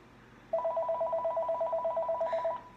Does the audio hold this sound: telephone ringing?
yes